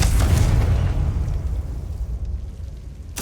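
A loud, booming blast from the Confringo blasting spell in a Harry Potter video game. It hits at once with a heavy rumble that rolls and slowly fades over about three seconds, with no voices.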